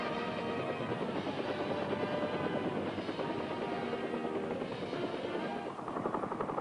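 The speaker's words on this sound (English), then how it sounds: "Huey, would be the Sky Troopers' prime means of transport" Huey military transport helicopter of an airmobile Sky Troopers unit flying, a loud continuous rotor and turbine roar with steady broadband chop throughout, dipping slightly near the end.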